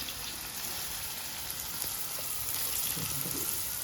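Chopped onions sizzle in hot oil in a pan while prawn pulao is being cooked, giving a steady, close frying hiss with faint stirring scrapes near the end and no talking.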